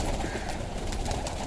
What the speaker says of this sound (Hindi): थोड़ा सा दाना चुग रहे हैं, 2-3 कबूतर,